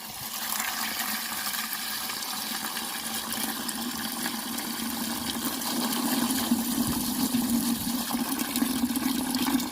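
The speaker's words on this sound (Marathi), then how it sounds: "कॉकच्या सहाय्याने यामध्ये पाणी घेऊया आपण" Water pours from a tap into a container holding soil and jaggery, a steady close rushing gush that runs unbroken and swells slightly as the container fills.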